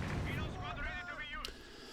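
Mortar shells land in a World War II strategy video game pitting Wehrmacht against Soviet forces, heard as low, muffled thumps at the start, fairly faint, with voice-like tonal sounds over them.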